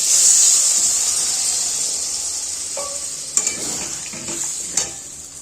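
Hot spiced masala hisses loudly in a pan, then water is poured in and the sizzle fades to a softer bubbling hiss, with a few sharp utensil clinks against the pan near the end.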